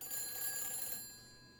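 Telephone ringing inside the horror video game Silent Hill 3, heard as a bright, steady electronic tone that stays loud for about a second and then fades out. No other sounds stand out.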